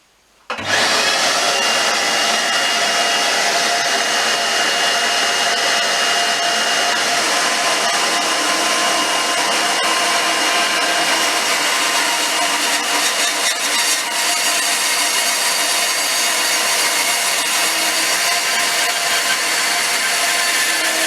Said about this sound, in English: So I've now cut the two middle poplar strips.